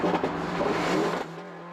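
The loud engine of a 520 wheel-horsepower hillclimb Subaru BRZ race car drones and revs steadily up close at a racetrack for a moment, then its pitch drops off.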